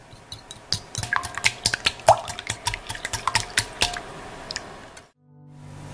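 Three hen's eggs go into a bowl and are stirred, giving a fast run of small clicking taps and wet plops for several seconds before a pause and a faint low hum.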